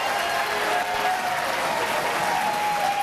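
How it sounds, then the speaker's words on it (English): Audience at a state gubernatorial debate breaks into sustained applause, a dense, even wash of clapping that holds steady throughout. "please hold your applause"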